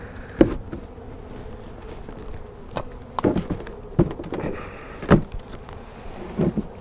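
Honey bees buzz around a hive up close, with several sharp, loud passes and bumps against a quieter background hum, irregular and without speech.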